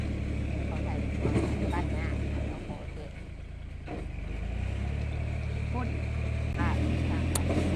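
A steady low single-axle walk-behind tractor engine drone runs throughout a rice paddy, dipping briefly midway before resuming, with voices talking faintly over it.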